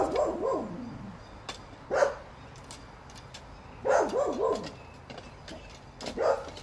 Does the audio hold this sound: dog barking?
yes